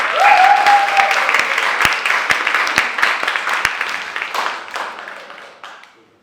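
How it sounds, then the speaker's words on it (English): An audience at a poetry slam applauds and cheers for two poets before scores are announced, a full burst of clapping with a brief whoop at the start that gradually thins and fades out. "Applause!"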